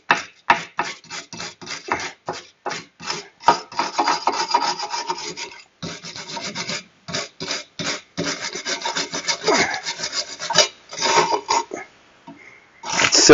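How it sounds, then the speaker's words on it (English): A steel brush rasps and scrapes grime out of a car brake drum in short, repeated strokes, close and fairly loud, with brief pauses between bursts and no talking. "Take a steel brush first. Scrape all that junk out of there."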